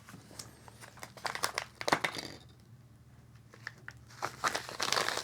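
A small paper envelope package is torn open, with close crinkling and crumpling bursts, a brief lull midway, then more rustling and tearing toward the end.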